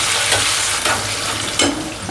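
Curry leaves and onion fry in hot oil for Kolhapuri misal, a constant close sizzle broken by a few sharp spoon-stirring scrapes against the pan.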